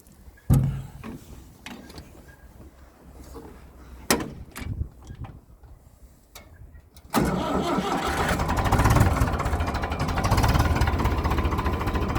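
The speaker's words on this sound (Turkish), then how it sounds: "Evet çıkıp bir çalıştıralım. Sesini de dinletelim traktörün" Clicks and knocks of someone climbing aboard, then an old Massey Ferguson tractor engine cranks and catches, settling into a loud, steady diesel chug nearby.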